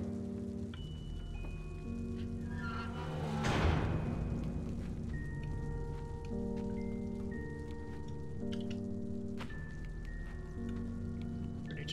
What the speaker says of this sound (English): Right, it's rain now.